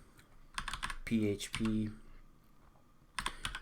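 Computer keyboard typing in short clicky bursts near the start and again at the end, with someone talking in between.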